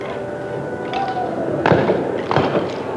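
Celebratory gunshots fired during a city festival parade in 1988: a few sharp bangs, two louder reports near the end, over steady outdoor crowd ambience.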